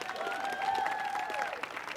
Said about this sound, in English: Clap for the DJ one more time.